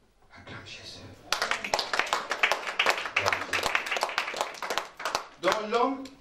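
Church congregation clapping and cheering in praise of Jesus during a worship service, a dense, loud burst of applause rising after a quiet start and continuing steadily, with voices calling out over it.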